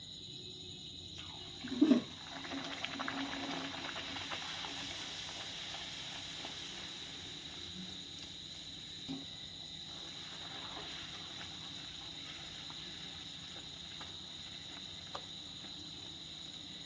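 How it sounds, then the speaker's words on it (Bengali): Luchi, a puffy Bengali flatbread, fries in hot oil. A steady close sizzling hiss runs throughout, with a louder bubbling burst near the start and a few faint clinks later. "এরকম করে আমি লুচিগুলোকে ভেজে নেব।"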